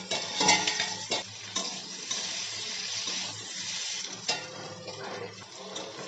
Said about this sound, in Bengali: আমি কয়েকবার ঢাকা চাপা দিয়ে দিয়ে আলুটাকে নাড়াচাড়া করে ভেজে নেব।